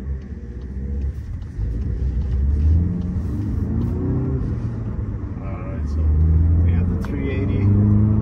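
A Volkswagen GTI 380 with a 6-speed manual drives along, its engine a steady loud drone with pitch that dips and rises as it accelerates and shifts, rumbling continuously close by.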